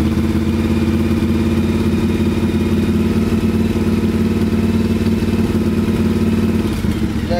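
A Yamaha Virago XV700 V-twin motorcycle engine holds a steady 2000 RPM, a loud, even, throbbing drone with a continuous low rumble and no talk over it.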